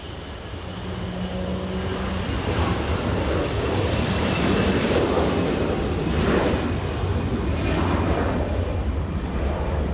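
Delta airliner bound for Salt Lake City moving at LAX, a broad steady jet roar that swells early and holds loud and constant throughout, with no talk.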